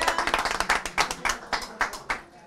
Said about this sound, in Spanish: ¡Aplausos a la cocinera!